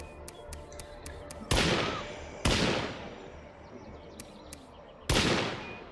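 Three sharp, loud AR-15 rifle blasts in the video game State of Decay 2, each followed by a decaying echo, spaced about a second apart over a steady background hum.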